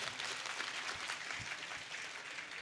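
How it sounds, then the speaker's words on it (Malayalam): School audience at a guest talk claps along when invited, a dense, even wash of many hands clapping throughout, moderately loud and without voices. "എന്നാൽ ഒന്ന് കൈയടിച്ച എല്ലാവരും"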